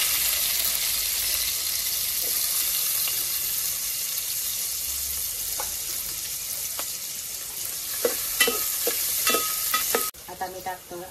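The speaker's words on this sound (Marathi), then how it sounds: "आता कांदो घालूया फोडणी." Chopped onion goes into hot tempering oil for a Konkani mutton-and-fish curry and hisses in a steady sizzle. Sharp clinks of a spoon stirring against the pot cut through the sizzle, and the frying dies down abruptly near the end.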